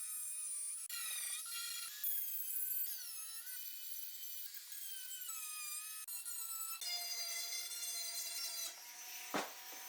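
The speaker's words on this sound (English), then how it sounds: "Now let's go ahead and grab our rotary tool. And let's go ahead and start cleaning up all these edges." A handheld rotary tool sands the rough edges of a fiberglass part. Its high, whining motor runs steadily and near, the pitch shifting as it bites into the material, then dips briefly near the end.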